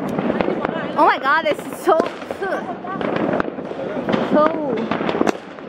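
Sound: New Year's Eve fireworks exploding

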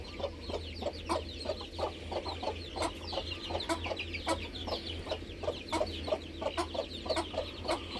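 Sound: fighting chickens clucking

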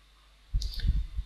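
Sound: mouse clicking during software installation

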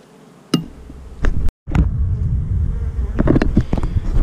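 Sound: bees buzzing around a hive

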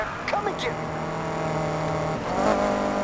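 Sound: car drifting after double-tapping accelerator, Heat video game

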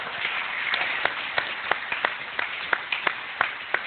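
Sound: congregation applause and clapping

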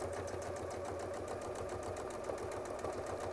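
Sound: sewing machine stitching a free-motion quilt

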